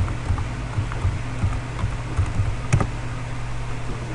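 Keys clacking on a computer keyboard as the ipconfig command is typed into a command prompt on a server, a steady run of moderately loud taps over a low background hum.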